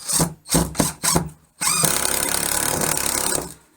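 A Makita TD127D impact driver buzzes in four short bursts, then runs in one longer continuous whir as a screw drives into wood, close and loud.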